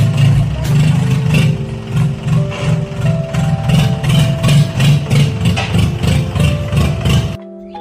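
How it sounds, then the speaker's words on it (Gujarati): A Mahindra tractor engine with its silencer removed runs loud and close, a harsh rapid knocking exhaust beat that holds steady, then cuts off at the end. "ટ્રેક્ટરનું સાયલેશન ખોલીને તેને સાયલેશનનો અવાજ કેવો લાગે છે તે તમે પણ બધા એન્જોય કરજો"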